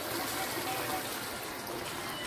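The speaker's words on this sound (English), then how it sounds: "So I'm going to put one more cup of water." Water trickles and splashes into a pot of Jamaican brown stew pork, a steady liquid pour running the whole time, moderately loud and close.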